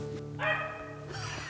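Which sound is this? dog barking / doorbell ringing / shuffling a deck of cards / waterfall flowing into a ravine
dog barking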